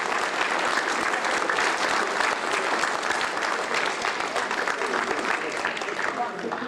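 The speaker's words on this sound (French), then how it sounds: "je vous demande encore d'applaudir très fortement notre..." A hall audience at a local history society evening applauds loudly and without a break, a dense and continuous wash of many hands clapping.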